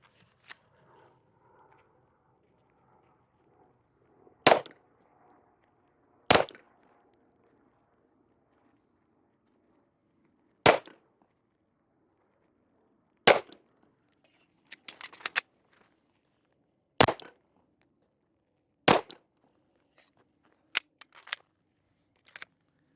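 Glock 19X pistol shots at an outdoor range, about nine sharp reports spaced a second or two apart, loud and isolated against quiet gaps with faint ambient noise.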